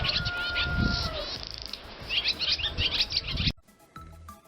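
Bright chirping and twittering swallow calls, close and lively, in quick irregular bursts that cut off abruptly, followed by faint scattered sounds.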